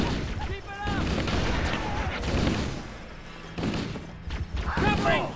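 Rapid gunfire and explosive thumps in a Halo: The Master Chief Collection firefight, bursts of shots coming in waves with brief lulls while players shout over the action.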